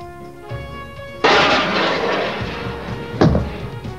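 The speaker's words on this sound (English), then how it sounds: "The second Mirage aircraft is firing the Matra missile." A Mirage fighter aircraft launching a Matra air-to-air missile: a loud sudden roaring blast that sustains and fades, followed by a second sharp thump over a steady engine drone.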